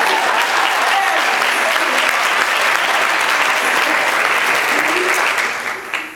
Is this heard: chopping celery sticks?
no